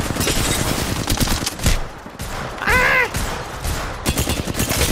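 Rapid gunfire from a weapon in a shooter game, bursts of sharp shots in quick succession with brief pauses between volleys, loud and close.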